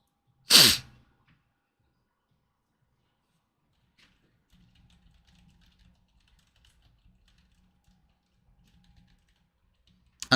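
A single loud, sharp sneeze close by near the start, followed by near silence with faint soft rustling and a brief noise at the very end.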